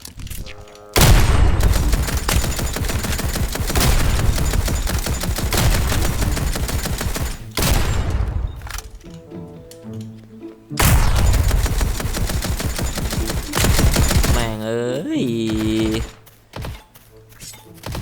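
Rapid automatic gunfire rattles through a Roblox Rift Royale battle, loud and close. Long sustained bursts break off into short pauses, with a few thuds and mechanical clanks between volleys.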